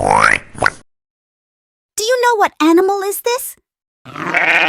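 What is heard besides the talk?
sheep bleating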